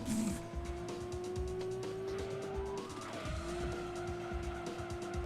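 A car slides through a corner in the racing game Gran Turismo 2, its engine holding a steady droning note while tire squeal and skidding noise run continuously beneath it for several seconds.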